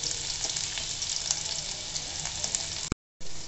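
Chopped onions frying in butter and oil in a kadai give a steady, close crackling sizzle throughout, broken by a brief silent gap before the sizzle resumes.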